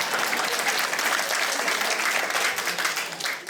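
Loud, dense applause fills a comedy club during a dark-humour stand-up night, a continuous wash of many hands clapping close by that thins slightly just before it ends.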